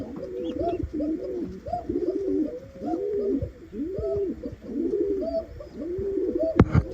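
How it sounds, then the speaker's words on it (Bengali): A pigeon coos close by in a steady series of about seven soft, throaty, rolling calls, each separated by a short pause, with no talking. "ডাকতেছে আমার কক্কা কবুতর"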